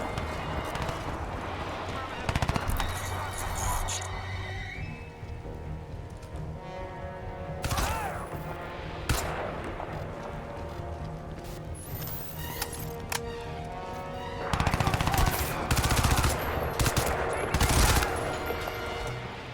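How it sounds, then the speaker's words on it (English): Gunfire in Crysis 2 Remastered: repeated bursts of automatic weapon fire and sharp shots in clusters, loud and close, separated by quieter stretches, with someone talking intermittently over the action. "Ow, stop shooting me."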